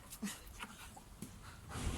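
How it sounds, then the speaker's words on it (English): A dog pants faintly and quickly with a few soft whimpery breaths, heard close in a quiet indoor room during an exercise class for the back. "Oh no, here comes Corona dog."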